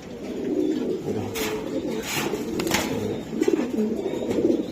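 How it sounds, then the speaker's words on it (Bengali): Racing pigeons coo in low, rolling calls, repeated close by over faint background noise and a few brief rustles. "এই যে এই কবুতরটা নিতে পারবেন খুব ভালো একটা কবুতর"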